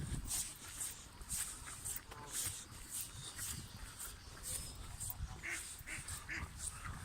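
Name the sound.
ducks quacking at a lake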